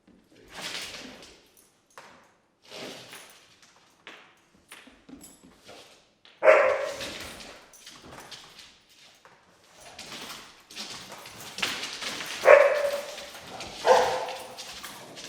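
A dog barks in repeated sharp bursts with a few higher yips between them. The barking is moderately close, with quiet gaps between volleys and no talking.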